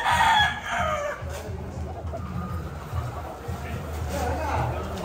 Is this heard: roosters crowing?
yes